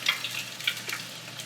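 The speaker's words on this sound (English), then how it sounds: "It's a fun little sizzle moment." Homemade fries frying in vegetable oil, a soft steady sizzle with faint crackling pops and small bursts throughout, moderately quiet and close with no talking.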